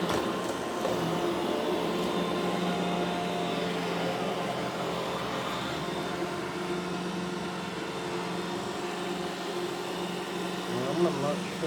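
An iRobot Roomba e5 (e5152) robot vacuum cleaner runs indoors near a sofa, giving a steady close motor whir and brush hum throughout, with a faint clatter near the end.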